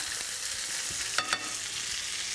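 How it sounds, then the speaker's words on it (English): A steak sizzles loudly in a pan as melted butter and juices are spooned over it, giving a constant close sizzle with faint clinks and a brief splash of basting partway through. "dip the pan and start tossing all that butter and juice straight over the top of the steak"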